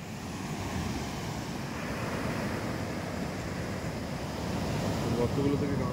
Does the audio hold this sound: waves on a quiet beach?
yes